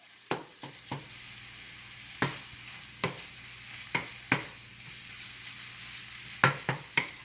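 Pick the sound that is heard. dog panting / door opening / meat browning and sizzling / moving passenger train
meat browning and sizzling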